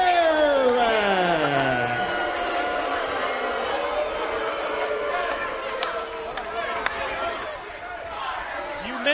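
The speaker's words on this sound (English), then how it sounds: "The roar for Sting in anticipation of possibly a new NWA World Heavyweight Champion" A capacity wrestling arena crowd at the Hard Justice event roars for Sting, a loud continuous wash of cheering and chatter with a commentator's voice talking over it throughout.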